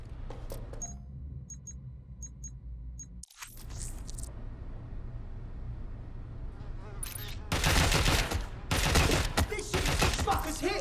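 Bursts of automatic gunfire in the Watch Dogs Legion video game, quieter shots at first, then loud, close rapid volleys in the second half amid ongoing game ambience.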